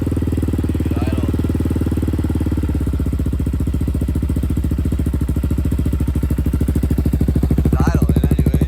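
A 2001 Yamaha Raptor 660R ATV engine idles steadily up close, its loud, even single-cylinder chugging continuous throughout, with a brief voice faintly heard over it.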